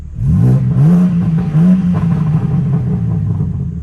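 A 2022 BMW M4 (G82) engine rumbles with its exhaust valve open, with a couple of throaty revs rising and falling before settling into a deep, steady idle close by.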